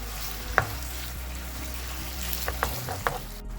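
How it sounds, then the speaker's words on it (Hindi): Chicken sizzles steadily in hot oil in a pot while being stirred for korma, with a constant close frying hiss and scattered scraping clinks of the spoon, no voices. "उसके बाद हमने चिकन डाल दिया इसमें और इसको अच्छी तरह मिक्स कर लेंगे। चिकन में हल्की सी चिकन फ्राई हो जाएगी।"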